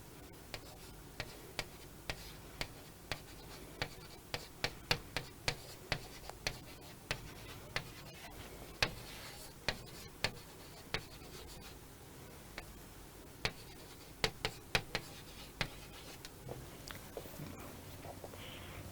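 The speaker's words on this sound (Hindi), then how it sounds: "लो मैं मेल आईडी वापस लिख रहा हूँ" Handwriting an email ID in marker or chalk on a board during a lecture, a close series of sharp ticking taps and short scrapes in an irregular rhythm, steady throughout on a quiet room background with no talking.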